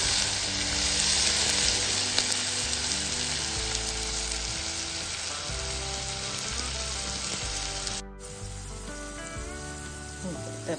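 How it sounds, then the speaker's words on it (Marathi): Vegetables and whole spices fry for veg pulao, a steady dense sizzle running throughout with a brief dip near the end before it resumes. "तर आपल्या भाज्या आणि मसाले चांगले फ्राय झालेले आहे."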